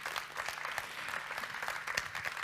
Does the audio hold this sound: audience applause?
yes